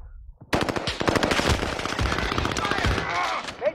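Rapid machine gun fire in the video game Warzone, a loud close burst of shots starting suddenly after a brief lull and continuing densely, with voices mixed in.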